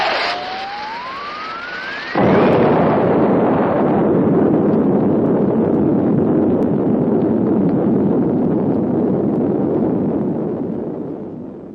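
A sudden loud explosion in a wooded area sets off a long, rolling rumble. It starts after a rising whistle and keeps roaring steadily for several seconds before slowly dying away.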